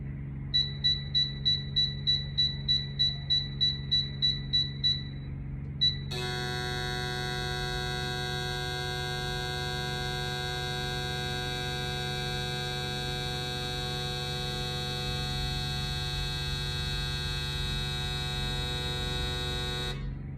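An Autool CT150 fuel injector cleaner beeps in a quick, evenly spaced series, then the injectors run with a steady, loud electrical buzz full of overtones that holds unbroken to the end.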